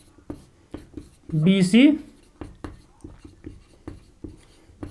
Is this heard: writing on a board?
yes